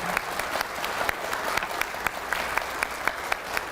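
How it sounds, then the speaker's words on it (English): An audience at a 4th grade school awards day claps for robotics students: dense, steady applause throughout, with a few louder individual claps standing out. "Let's give them a round of applause"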